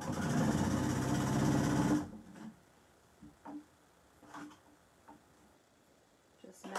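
A sewing machine stitches denim for a beginner-friendly man's apron at a 4.0 stitch length, running steadily for about two seconds up close before stopping, followed by faint, scattered handling clicks.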